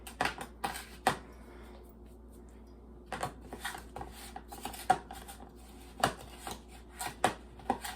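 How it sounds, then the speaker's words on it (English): Big fork creaming sugar into butter in a mixing bowl, giving irregular scraping clinks and taps against the bowl in bursts, fairly close and moderately loud with quiet pauses between strokes. "I'm creaming my sugar into my butter"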